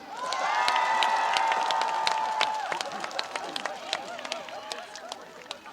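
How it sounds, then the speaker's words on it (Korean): An outdoor crowd at the 2025 Cheongsong apple festival trot concert erupts in cheering and sharp, scattered clapping; loud whoops fade into lingering applause. "박수 주십시오"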